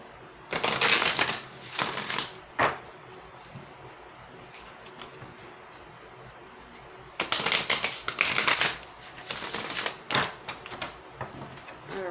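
Tarot cards are shuffled in quick riffling bursts, close and crisp, with a quiet pause between two rounds of shuffling.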